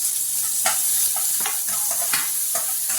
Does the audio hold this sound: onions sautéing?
yes